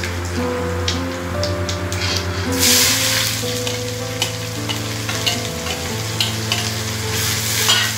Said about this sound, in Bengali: দিয়ে দেবো 1 চামচ জিরা, কালো জিরে যেটা, এবার দিয়ে দেবো পেঁয়াজ কুচি।